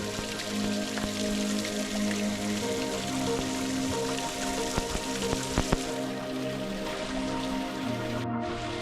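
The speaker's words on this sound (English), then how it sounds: "Woy Woy Waterfall." Woy Woy Waterfall on the Central Coast of New South Wales pours into a natural pool with a steady, dense splashing rush that stays even throughout, with a few faint clicks near the middle and no talk.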